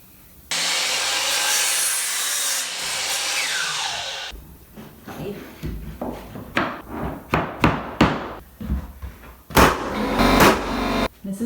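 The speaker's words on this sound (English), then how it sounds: "we just use our miter saw to make the straight cut" A miter saw cuts through a hardwood floor plank in one loud, sustained whine of about four seconds. Sharp knocks and clatters from handling the wood follow, with no talking.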